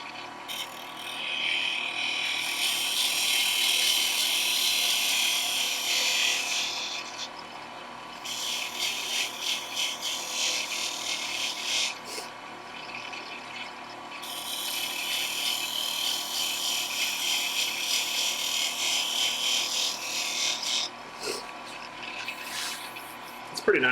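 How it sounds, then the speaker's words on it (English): A spindle gouge cuts a wooden bottle stopper spinning on a lathe, giving a steady hissing, rasping scrape in long sweeps with brief breaks, with a lathe hum underneath and a little talk. "we're gonna go back to the spindle gouge here"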